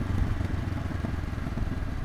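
A Honda NX500 motorcycle engine thrums on a test ride, a close, low, uneven rumble with a fluttering rhythm that runs steadily through the brief moment.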